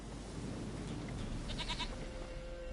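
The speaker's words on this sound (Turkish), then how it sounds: "Goat of mine, dearest, sweetest goat." Goat bleating in The Witcher 3, a few short wavering bleats in the middle of a steady wash of outdoor game ambience, moderately close.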